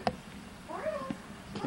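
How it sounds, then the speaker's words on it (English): A kitten gives a single short, rising-and-falling meow, faint and outdoors, with a few soft knocks around it. "Oh, no, that's a kitten."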